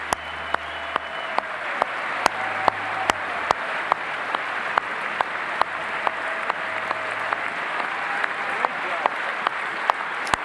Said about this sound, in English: There's a roaring cheer for that one, guys.